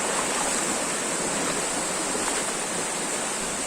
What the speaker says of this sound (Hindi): क्या मस्त झरना है रे।